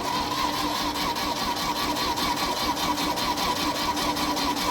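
An engine held under throttle while revving, giving a steady, loud, continuous mechanical drone with a fast rhythmic pulse and no clear pauses, close by.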